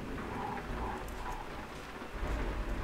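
Steady rain patters against a moving car while driving through the Balkans, with a continuous hiss and low road rumble and no talk.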